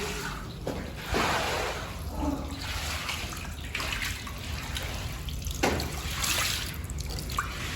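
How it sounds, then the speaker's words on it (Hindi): Water streams steadily from a pipe into a wok, a continuous close splashing pour with a few louder sloshes and drips, with no voices over it. "वो पानी अपना गिर रहा है, कढ़ाई भरेगी पानी की।"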